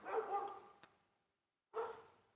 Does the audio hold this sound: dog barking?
yes